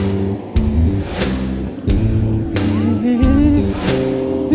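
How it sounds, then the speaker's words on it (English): A snowplow approaches along a freshly groomed corduroy snowmobile trail at Wolf Creek, its engine a loud, steady droning rumble with a rising whine, punctuated by brief breaks, heard up close. "Here comes the mighty snowplow."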